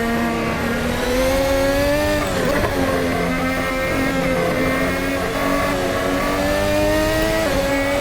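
A 2022 Formula 1 car accelerating at Silverstone, heard close from the cockpit as a loud, steady high-pitched engine howl that rises through the revs with brief dips at gear changes.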